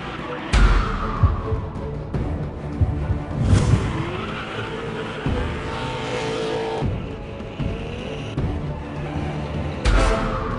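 A drift car slides sideways around a track in Dubai, its tires squealing and skidding in long sustained bursts while the engine revs and surges close by, with no talk over it.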